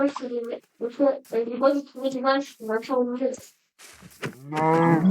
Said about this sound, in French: Plus, il y a une vache à côté.